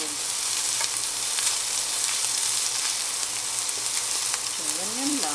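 Canned tuna with egg fries in a pan, giving a continuous bright sizzle with a few soft stirring touches near the end.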